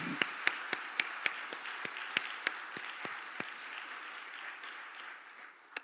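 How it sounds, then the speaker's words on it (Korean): A church congregation at a Sunday evening service gives scattered clapping, sharp distinct claps at an uneven pace over a soft room hum, fairly quiet and sparse, fading out near the end. "격려의 의미로 한번 박수 한번 부탁드리겠습니다"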